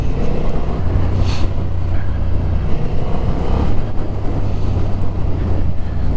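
Honda Hornet 750 motorcycle riding along, a steady low engine drone mixed with heavy wind rush, continuous and close throughout with no talk.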